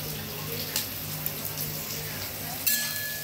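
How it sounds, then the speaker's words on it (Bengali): Fish cutlet filling with onion and garlic fries in a pan, a continuous hissing sizzle with a low hum beneath and a couple of sharp utensil clinks. "এটা ফ্রাই করছি।"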